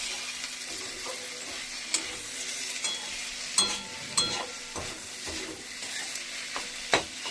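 Curry cooking in a pan on a hot griddle gives a constant low sizzle broken by irregular scraping and tapping as a utensil stirs it, close and fairly quiet, with no one speaking.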